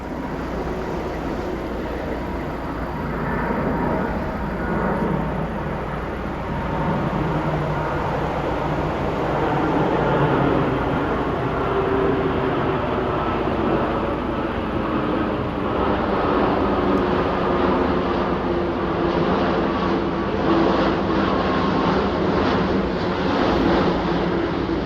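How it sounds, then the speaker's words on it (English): Constant motorway traffic from the M53 gives a broad, steady roar throughout, with passing vehicles swelling and fading over wind noise. Nobody talks. "This road here, the noisy road, is the M53."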